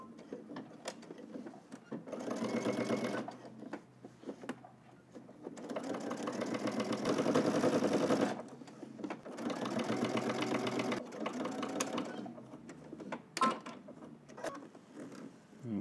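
Domestic sewing machine understitching along a garment seam, running in several bursts of a few seconds each, separated by short pauses and handling clicks, fairly close and steady.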